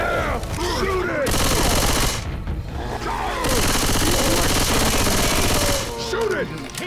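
Loud machine-gun fire in a zombie survival game, long rapid bursts with a short break in the middle, while players shout and talk over the shooting.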